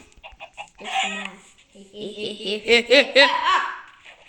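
Chickens cluck close by in short, choppy bursts that build into a longer run of rapid clucks, with no talking.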